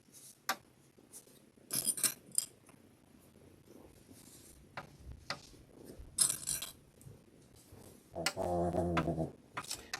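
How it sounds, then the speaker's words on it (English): An animal snores close by in bursts, with a longer, louder rumbling snore near the end and a few small clicks and knocks between breaths. "that noise is Goober snoring per usual"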